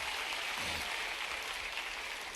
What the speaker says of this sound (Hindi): ताली बजाओ सर के लिए